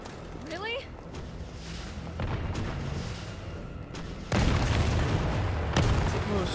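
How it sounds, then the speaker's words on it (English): Rocket launcher explosions in the Resident Evil 3 video game: heavy rumbling blasts, one big boom at about four seconds then continuous roaring noise, with a person talking over the gameplay. "Rocket launcher? Really?"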